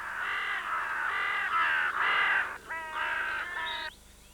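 Ravens calling at their nest in bare branches, with a run of about seven hoarse, loud caws in close succession and a short pause before the last few.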